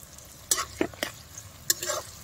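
Onions being stirred in a pan with a little salt, browning, with several distinct scraping strokes over a soft frying sizzle, close and fairly quiet.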